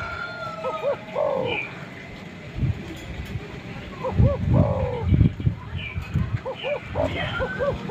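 A spotted dove (tekukur) gives repeated soft, hollow coos in short phrases over a busy outdoor background of low rumbling noise.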